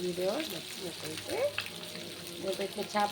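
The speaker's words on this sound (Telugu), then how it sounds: "ఇదిగోండి చేప ఫ్రై అయిందండి, పెట్టేస్తున్నాను" Fish frying in a little oil in a pan, a steady sizzle that runs throughout, with a voice talking over it at moments.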